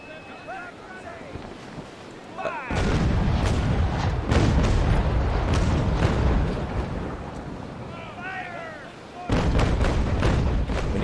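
Ship cannon broadsides from the Naval Action video game boom in heavy rolling volleys, loud and close, with wind noise between bursts and someone talking over the gunfire.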